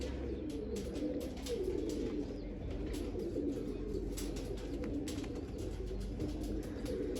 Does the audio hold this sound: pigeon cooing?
yes